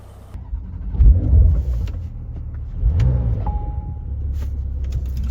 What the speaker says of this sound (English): now let's go jump in the 4S with the sport exhaust system